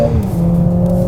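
Mercedes-AMG A 45 S 4MATIC+ engine pulling hard under full acceleration toward 7,000 RPM, a loud, close, steadily rising drone with strong harmonics, alone with no talk.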